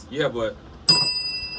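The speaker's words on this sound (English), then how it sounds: "Why y'all ringing the bell?" A bell rings out sharply and sustains with a bright, lingering ring, following a stretch of nearby casual talk.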